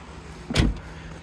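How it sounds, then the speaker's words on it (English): The powered boot of a 2015 Volvo XC90 2.0 D5 Momentum shuts by itself with one brief, muffled thump, heard close in a quiet setting. "Push a button guys and the boot will close by itself."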